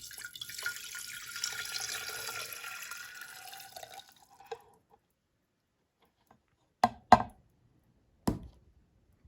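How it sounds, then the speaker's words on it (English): Water pours from a cup onto a potted Phalaenopsis orchid in a steady splashing stream for about four seconds, followed by quiet pauses and a few sharp drips and taps near the end. "what we're going to do now is add 2 cups of water to Orchid 26"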